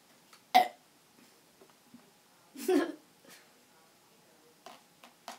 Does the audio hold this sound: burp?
yes